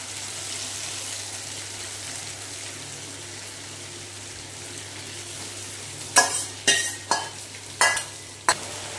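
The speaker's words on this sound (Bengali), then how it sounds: "মশলাটা আগে ভালো করে কষিয়ে নেব" Spice masala sautés in a pan for a mutton-style dish, a steady soft sizzle, then several loud scraping stirs near the end.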